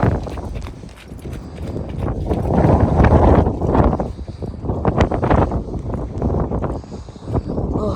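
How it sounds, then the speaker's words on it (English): Strong wind gusting in stormy, wet Scotland, roaring and buffeting a nearby microphone with rising and falling surges, mixed with hoof-like clopping footsteps. "see when it's windy like this, I can't breathe."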